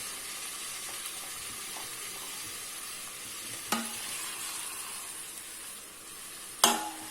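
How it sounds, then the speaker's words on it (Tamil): Onions and tomatoes with curry leaves sauté in a pan for crab gravy, giving a steady close sizzle with light stirring scrapes and two sharper clatters of the utensil against the pan. "தக்காளி பழத்தை நல்லா வதக்கிடுங்க."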